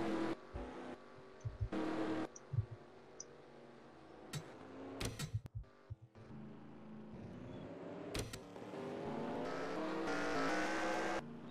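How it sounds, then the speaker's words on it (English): NASCAR stock cars at a 2014 Sprint Cup race during pit stops, with engines revving and roaring, sharp bursts and pauses, and a loud, building car roar near the end. "Casey Mears now coming down pit road"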